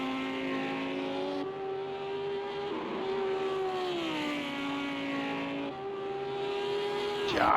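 A GT3 race car in a racing video game on the Mount Panorama Bathurst circuit climbs through the gears, its engine note rising steadily between shifts for several seconds, loud and close with no talk over it.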